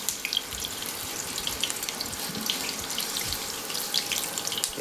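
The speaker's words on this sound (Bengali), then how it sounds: "এই পেঁয়াজগুলোকে এই তেলে দিয়ে দেওয়া হচ্ছে" Sliced onions hiss and crackle steadily in hot oil in a home kitchen, a dense, even frying noise that holds at a moderate level throughout with no one speaking.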